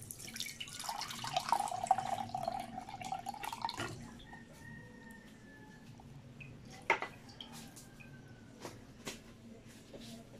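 Liquid from canned fruit cocktail splashes and trickles as it is drained, a steady pour for about four seconds and then scattered drips and small clinks, fairly quiet, with faint talk in the background.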